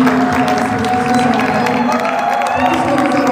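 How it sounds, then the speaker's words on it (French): A church congregation claps and cheers together, dense continuous applause with scattered whoops and voices mixed in, loud and sustained throughout. "On va applaudir le Seigneur pour son Fils"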